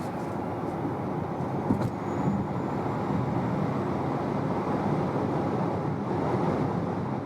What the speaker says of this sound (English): So I'll put to 80 kilometers an hour and accelerate it out to 150.